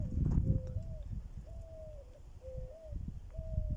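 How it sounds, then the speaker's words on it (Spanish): Birds call outdoors, a few repeated clear whistled notes at a steady pace, heard fairly distinctly over a busy bed of low rumbling and handling noise. "escucho el canto de las aves hermoso"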